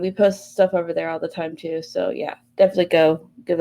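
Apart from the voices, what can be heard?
No distinct noise like a dog, phone or traffic.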